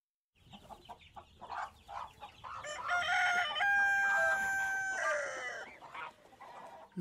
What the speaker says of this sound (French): Le chant du coq.